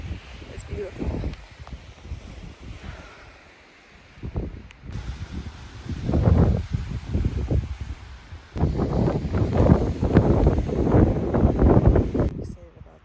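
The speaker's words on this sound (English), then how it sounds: "Super windy" Strong wind buffets the microphone on an outdoor trail, roaring in gusty, uneven bursts that swell louder toward the end. Speech is likely mixed in beneath the roar.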